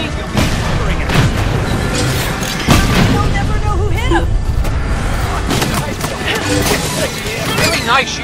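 Rockets and rapid-fire weapon bursts boom and crackle through a frantic kart race in Cars 3: Driven to Win, with Cruz Ramirez driving amid roaring engines and game music, and announcer voices talking over the steady din.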